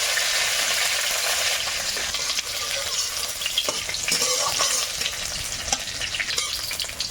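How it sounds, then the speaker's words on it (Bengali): Nigella seeds, chopped garlic and green chili fry in hot oil in a pan with a loud, continuous crackling sizzle, broken by stirring scrapes and brief spits. "তেলে একটু কালো জিরে দেব একটু রসুন কুচি আর কাঁচা লঙ্কা"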